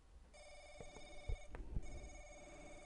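Telephone ringing in The Crooked Man video game, a steady electronic trill that starts after a brief pause and runs on through the clip, with a few soft thumps and game noises underneath.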